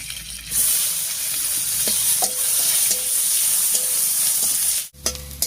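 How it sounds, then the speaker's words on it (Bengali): Chopped onion frying in oil with whole cumin, dry red chilli and bay leaf: a loud, close, continuous hissing sizzle as it is stirred, with a brief break near the end before the frying picks up again. No one speaks. "ফোড়নের সঙ্গে পেঁয়াজটা ভাজা ভাজা হয়ে গেছে"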